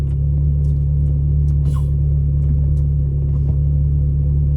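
Ferrari 360 engine idling steadily in first gear while stationary, a loud, constant low rumble throughout with a few faint clicks above it.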